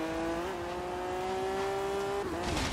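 Twin-turbo all-wheel-drive 1993 Jaguar XJ220 engine in Forza Horizon 3, a steady droning engine note that rises slightly and holds before dropping off as tires hiss, fairly quiet and without speech.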